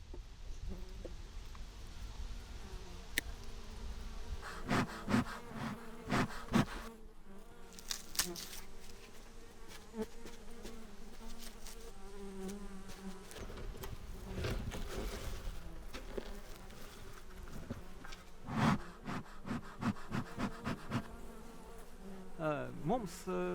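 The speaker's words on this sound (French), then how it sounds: "Nous avons des abeilles depuis 5 ans maintenant." A dense, steady buzzing of many honey bees in Latvia fills the air, with individual bees droning louder as they pass close by.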